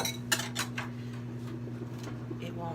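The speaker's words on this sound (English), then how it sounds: "Check this cream cheese mix and see if it's getting any softer. So whisk that real good" A cream cheese mix being whisked in a bowl, a few quick metallic clinks and scrapes of the whisk against the bowl over a steady low hum in a kitchen.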